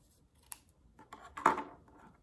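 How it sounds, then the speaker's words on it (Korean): Scissors snipping brown paper into long, narrow strips for a paper snowman craft: a sharp single snip, then a longer, louder cutting stroke a second later, close and clear with no talking. "가위로 이렇게 잘라서"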